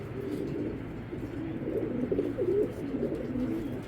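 Foreign racing pigeons coo in a low, steady murmur, several birds overlapping in a continuous throaty babble with no voices over it.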